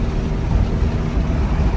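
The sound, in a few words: car driving on highway at 75 with roof rack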